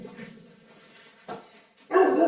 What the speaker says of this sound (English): I think he's a Cane Corso mix.